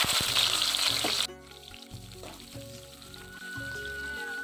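Onions fry in hot oil in a wok. A bright sizzle is loudest for the first second, then drops to a softer steady fry under a continuous tonal background resembling music.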